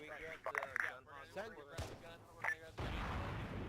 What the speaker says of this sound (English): Run the mortars